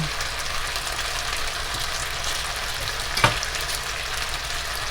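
Butter sizzling in a hot pan with beef for pepper steak, a loud, steady frying hiss throughout, with one brief clatter near the end.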